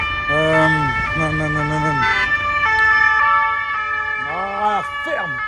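A police siren wails outside in a city street, its rising and falling tones loud and continuous, sweeping up and down several times across the clip.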